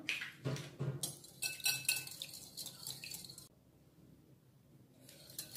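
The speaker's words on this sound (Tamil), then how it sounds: "முட்டையை நல்லா பீட் பண்ணிட்டேன்" Eggs are beaten in a bowl for a masala bread omelette, giving quick clinking and tapping strokes that come in bursts for a few seconds, then taper off into near quiet before a brief return.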